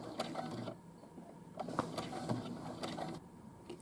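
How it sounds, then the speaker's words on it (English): A sewing machine stitches fabric casing near a pocket, running in short bursts of rapid mechanical whirring and needle clatter with brief pauses between runs, close and steady. "I'm going to stitch just till I get past this pocket here"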